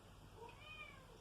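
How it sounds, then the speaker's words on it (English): A house cat meowing from somewhere in the background, one faint, drawn-out meow over a quiet room. "If you guys hear my cat in the background,"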